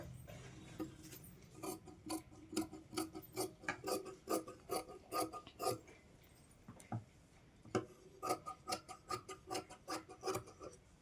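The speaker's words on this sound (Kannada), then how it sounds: "ಸೊ ಇದನ್ನು ಕಟ್ ಮಾಡ್ಕೋತೀನಿ." Scissors snip repeatedly through lining blouse fabric, a brisk run of close, crisp cuts in quick rhythmic bursts with short pauses between them and no talking.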